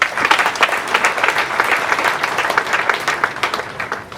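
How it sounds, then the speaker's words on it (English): A crowd claps continuously at an event honoring the family of the late Gen. Elly Tumwiine: dense, close, even applause without talk. "I request we give her another clap."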